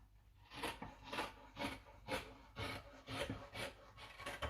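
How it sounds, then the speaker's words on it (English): Scissors cutting a dress neckline in fabric, a quiet, close rasping snip repeated in a steady rhythm of about eight strokes, with no talking. "I'm going to cut neckline for the front."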